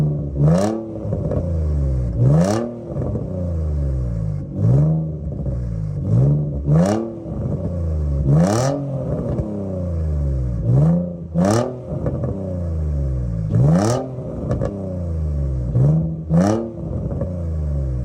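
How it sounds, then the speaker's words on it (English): A warmed-up car engine revs repeatedly, each blip climbing sharply in pitch and falling back, about a dozen loud, rhythmic revs in close succession with rumbling idle between them. "I'll give you guys a couple revs once it warms up"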